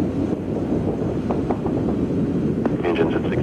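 The Space Shuttle Challenger's main engines roar during its 1986 launch as a broad, steady rumble with wind buffeting. A mission commentator's voice is faintly heard over it.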